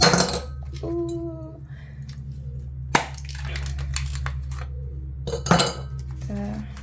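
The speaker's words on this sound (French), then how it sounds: "J'ai mis mes petits glaçons." Ice cubes dropped into a glass for iced matcha at home, giving a few sharp clinks and knocks over a steady low hum, with some faint kitchen clatter and no talking.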